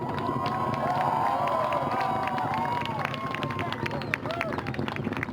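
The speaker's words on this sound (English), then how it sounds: "Crowd watching the launch at Wallops there, cheering its liftoff" A crowd at Wallops cheers the liftoff of an Orbital ATK Antares rocket carrying a Cygnus cargo craft, loud sustained shouting and whooping over the deep rumble of the launch, with scattered clapping as it fades slightly.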